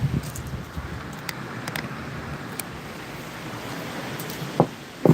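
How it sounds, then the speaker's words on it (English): Wind gusts steadily across the microphone outdoors, a constant low rumbling roar, broken by a couple of sharp knocks near the end. "really windy out here, so hopefully this goes well."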